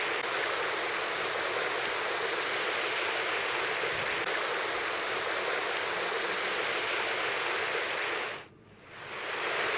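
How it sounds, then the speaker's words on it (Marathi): A stream swollen by heavy monsoon rain roars in a dense, steady rush of water, loud and unbroken, briefly dipping near the end. "या पावसामुळे ओढे, नाले ओसंडून वाहू लागलेत"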